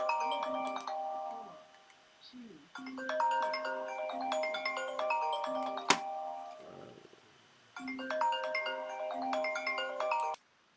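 A phone rings with an incoming call during an accounting lesson, a bright melodic ringtone playing in repeated bursts separated by short pauses, clear and alone with no talk.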